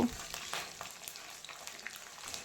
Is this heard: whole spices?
yes